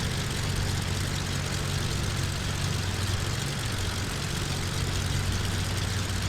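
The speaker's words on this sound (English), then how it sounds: "Slowly reducing the throttle. To idle." Beechcraft Baron 58 twin-prop engines in Microsoft Flight Simulator X settle into a steady low idle drone, an even, continuous hum with no voices over it.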